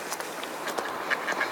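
A few ducks quack softly nearby, short scattered calls over a faint background, with light shuffling sounds.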